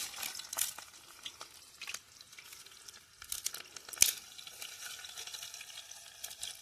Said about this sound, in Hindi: यहाँ तेल गरम हो चुका है। अब इसमें डूंगरी डालेंगे।